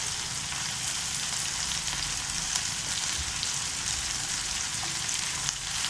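Spices and grated coconut fry in a pan for a Tamil-style roasted mutton kuzhambu. A steady, close sizzle and crackle runs throughout with no one speaking.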